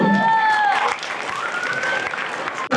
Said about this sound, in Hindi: पुरजोर तालियों में इस्तकबाल करें मोहम्मद शकील